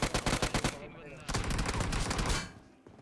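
Gunfire from the video game PUBG Mobile rings out in a rapid burst of automatic shots, then a second sustained volley, loud and close, with no talk over it.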